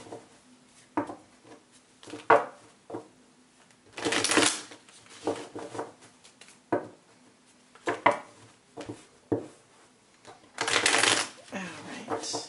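Tarot cards riffle and flutter in repeated bursts of shuffling, with soft taps and shifts between them, close and fairly quiet.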